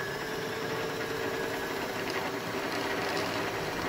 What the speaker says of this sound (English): have some videos of me struggling with sewing machines